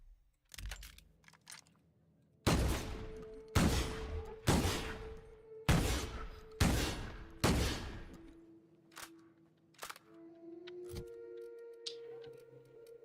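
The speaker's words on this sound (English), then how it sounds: "But it's just a shotgun." Shotgun blasts in The Outer Worlds: about six heavy booming shots in a steady rhythm, each with a sharp attack and a decaying tail, loud and close, followed by quieter mechanical handling noises and a faint hum.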